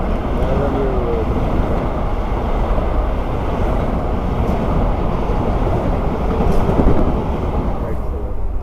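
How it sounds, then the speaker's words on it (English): A Long Island Railroad train rushes past in Elmhurst, Queens, after a snowstorm, a dense, loud, continuous roar with wind buffeting the microphone and no clear talk. "Long Island Railroad."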